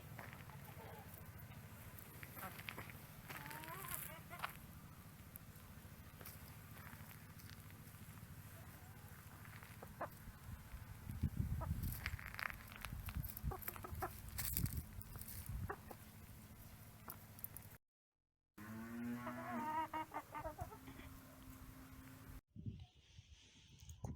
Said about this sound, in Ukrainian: І це вийшли такі курочки. Така курочка красива.